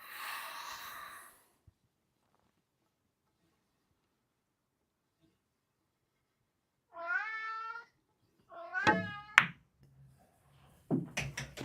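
A cat meows several times after a long quiet gap, with short rising and falling cries close to the listener. Sharp taps and clicks sound around the later meows, and a brief burst of noise comes at the start.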